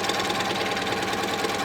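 A sewing machine stitches a seam on a fabric tote bag, its rapid, steady mechanical whir running continuously and close up, with no talk.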